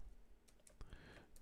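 Keystrokes on a computer keyboard, a short burst of scattered clicks with a few sharper taps, close and fairly quiet with no talking.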